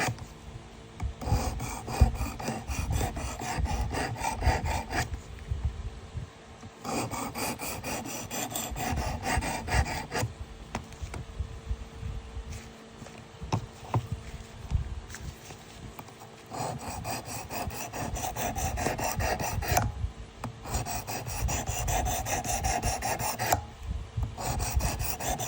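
A vintage USA Gerber Sportsman knife blade is drawn back and forth across a sharpening stone to set its bevel, giving repeated rasping strokes in steady bursts with short pauses between passes.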